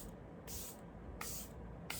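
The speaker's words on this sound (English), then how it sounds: "This is the Charlotte Tilbury Airbrush Flawless Setting Spray." Charlotte Tilbury Airbrush Flawless Setting Spray misted from a pump bottle in three short, soft hissing bursts, spaced evenly and heard close up.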